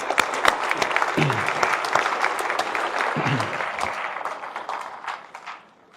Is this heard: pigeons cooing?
no